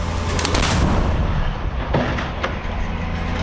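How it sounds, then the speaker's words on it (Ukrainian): A CAESAR self-propelled howitzer fires, a loud, heavy artillery blast rumbling through the whole stretch, with sharp cracks and a sustained roar of noise. "Гармата постріл!"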